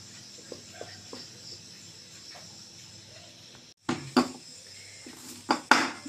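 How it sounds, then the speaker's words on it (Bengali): A lid is set over kneaded naan dough in a kitchen, producing a few close metallic clanks and clatters after a quiet stretch with faint background noise. "কুড়ি মিনিট ঢেকে রাখবো"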